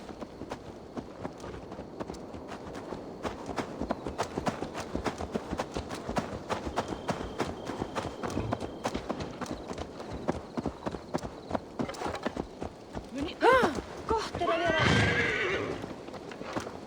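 Hooves clip-clop at a steady walking rhythm from a horse in Assassin's Creed Valhalla, close and continuous, with a loud whinny and snort near the end.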